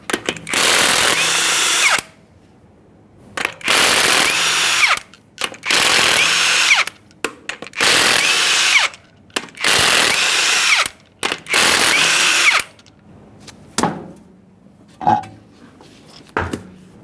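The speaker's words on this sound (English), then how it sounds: "we're going to remove the wheel by removing all 6 of our 21mm lug nuts" Power tool spinning off six 21mm lug nuts from a 2015-2020 Ford F-150 wheel, loud repeated bursts of about a second each with short pauses between, then a few quieter clicks and clanks at the end.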